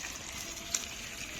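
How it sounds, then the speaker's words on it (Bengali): Water pours into a pot of browned chicken curry with potatoes, a steady, soft wash of hiss that holds evenly for over a second with one faint clink midway. "এখন জল দিয়ে দেব"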